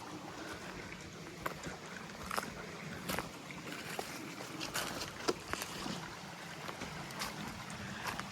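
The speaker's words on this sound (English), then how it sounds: "It's a beautiful little stream." A small woodland stream with tiny cascades on Fowlers Hollow Trail, Pennsylvania, gives a steady, faint wash of flowing water, dotted with soft splashes and light trickling ticks, heard from nearby with no voices.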